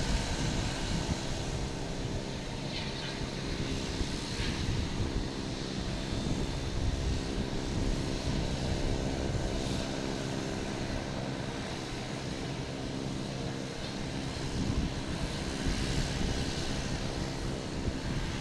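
A Cape Air plane arriving from Bar Harbor lands at Boston Logan Airport, heard as a steady, fairly loud engine drone mixed with wind buffeting the microphone.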